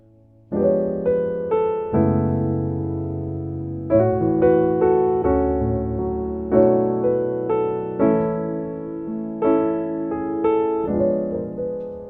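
Rich gospel-style piano chords played in a slow progression, each chord struck and left to ring, clear and close with no talking.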